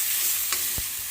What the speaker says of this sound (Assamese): এইখিনি এনেকৈ ভাজি ল'ম